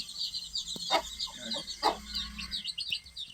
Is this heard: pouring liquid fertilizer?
no